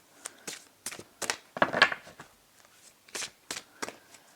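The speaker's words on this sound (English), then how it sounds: "I'm going to pull 3 cards from the Angels of Atlantis cards for you" Angels of Atlantis oracle cards shuffled by hand, a string of about a dozen short papery riffles and flicks in an irregular rhythm, close and fairly soft, with no talking.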